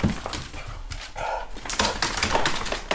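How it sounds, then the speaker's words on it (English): Dogs bark and whimper in short bursts, fairly close and loud, with yips and whines between the barks. "What are the dogs doing?"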